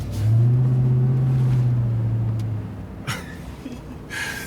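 A 702-horsepower Ram TRX pickup turns around on a snowy road, its engine giving a steady low drone that swells briefly and then fades, with a few faint thumps and a hiss near the end.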